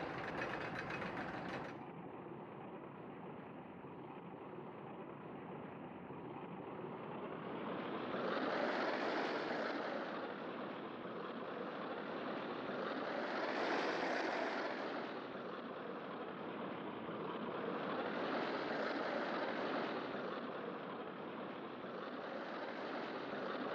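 A roller coaster ride running in the RollerCoaster Tycoon Deluxe video game: a steady, dense rumbling roar that swells and fades in slow waves as the cars circle the track, with no voices.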